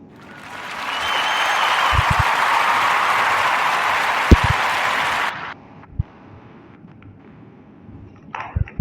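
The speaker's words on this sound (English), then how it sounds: "We'll give a warm round of applause up for Migon and Danielle of Grounded Plants" Warm round of applause from a podcast audience builds and holds loudly for several seconds, then cuts off abruptly, leaving quiet room sound with a few scattered knocks and thumps.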